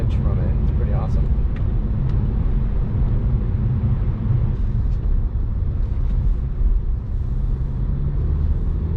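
A Jaguar XF car drives through snow slush, giving a steady, loud low rumble of road and engine noise with a broadband wash of slush spray throughout, and brief speech at the start.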